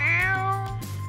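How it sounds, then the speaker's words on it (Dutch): A cat in the video game Catnap meows in a drawn-out, close, moderately loud call that dips and swells, with no talk. "Vervelende armoedige kat."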